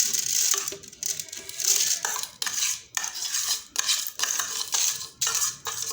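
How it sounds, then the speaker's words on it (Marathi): A mixer grinder grinding raw mango with salt, no water, whirs and rattles in repeated short bursts, pieces clattering against the jar between pulses, loud and close. "आता हे मिक्सरच्या भांड्यात टाकून"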